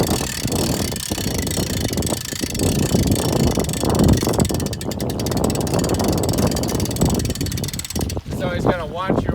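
A crane's engine runs steadily and loudly at close range while a boat lift and dock with foam floats are being installed, giving a continuous broadband machine drone with a short change in tone near the end.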